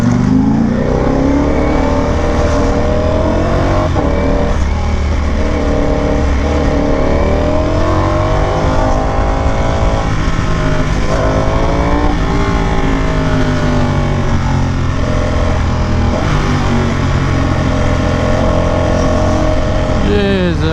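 A Ducati Panigale V4S motorcycle engine running steadily on a roughly idling 2022 model, a loud continuous close-up drone with slight wavering pitch, heard in traffic.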